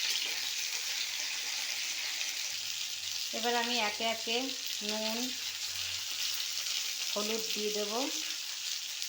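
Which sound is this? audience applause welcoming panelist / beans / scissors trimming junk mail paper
beans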